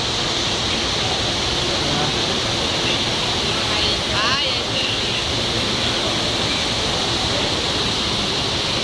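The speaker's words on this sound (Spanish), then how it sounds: "Por esa cascada que se encuentra ahí arriba." Artificial waterfall inside a shopping mall, a steady broadband rush of falling water that fills the scene continuously at moderate loudness, with faint crowd murmur beneath.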